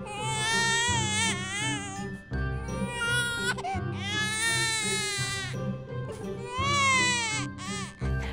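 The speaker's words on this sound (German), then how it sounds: "Hört ihr das? Ich glaube, Annabelle weint." A Baby Born doll gives a loud, wailing electronic infant cry in repeated long sobbing bursts, with a faint jingling tone underneath.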